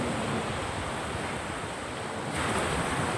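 Surf rolls in at the beach as an unbroken wash of hissing water, loud and close, swelling slightly toward the end with wind rushing across the microphone.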